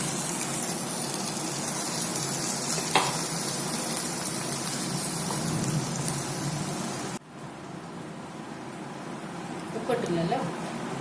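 Cooked dal poured into sautéed masala in a hot pan for dal fry sets off a steady, loud sizzle and spatter, which drops abruptly partway through to a quieter bubbling with speech over it.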